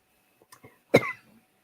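A single sharp cough burst from swallowing wrong, close and fairly loud, preceded by a couple of faint throat sounds, then quiet.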